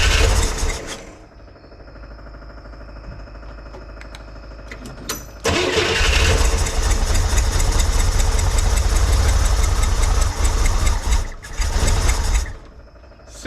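A cold 1963 Corvair engine cranks, falters briefly, then catches and roars into a loud steady idle close by, running on for several seconds before a short dip and recovery.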